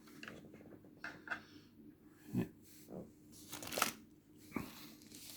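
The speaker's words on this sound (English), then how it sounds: "we're going to take a look at the unwrapping of the controller" A PlayStation 5 controller being unwrapped from simple wrapping with no tape, soft intermittent crinkles and rustles of packaging close by, with quiet gaps between handling sounds.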